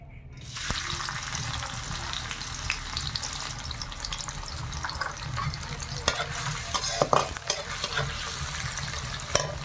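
Onion fries in a pan while being stirred, with a steady sizzle punctuated by scraping and clattering spoon strokes, close and fairly loud, with no voices.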